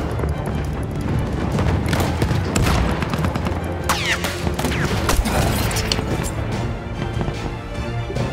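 Dense, continuous gunfire and explosions fill a Battlefield 1 multiplayer battle on PC, with rapid overlapping shots, booming blasts and scattered impacts sustained loudly throughout.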